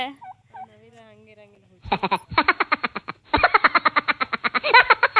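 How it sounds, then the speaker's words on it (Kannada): A male peacock at a resort gives loud, repeated honking calls in quick bursts, preceded by some softer tonal sounds, close and clear over quiet surroundings. "ಈ ನವಿಲ್ ಅನ್ಸುತ್ತೆ, ಗಂಡು ನವಿಲ್ ಅನ್ಸುತ್ತೆ."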